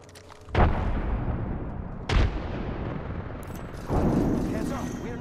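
Frag grenade blasts in Apex Legends, three loud booms spaced about a second and a half apart, each a sharp burst that decays into a rumbling tail amid gunfire and game noise.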